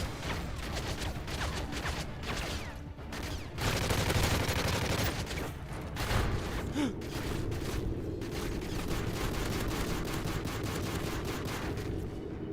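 Dense, continuous gunfire from Modern Warfare 3 Survival mode, rapid automatic bursts with layered game effects and explosions filling the whole stretch, loud and steady without a break.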